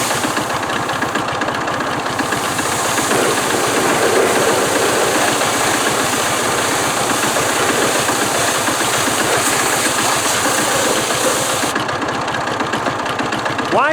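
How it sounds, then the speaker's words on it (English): A steam cleaner runs continuously to thaw frozen pipes on a forklift, a loud, steady roaring hiss with a mechanical engine-like drone underneath, unbroken and close for the whole stretch. "I'm going to warm up the pipes using the steam cleaner"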